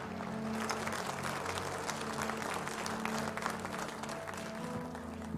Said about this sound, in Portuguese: Você pode aplaudir ao Senhor pela vida da Juliana.